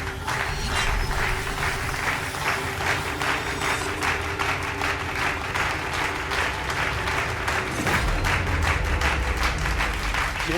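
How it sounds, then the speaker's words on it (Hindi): Rapid, continuous hand clapping in a horror drama scene, steady and fairly close, with a low rumbling background and a brief shift in tone near the end. "दीदी आप ताली बजाते रहो"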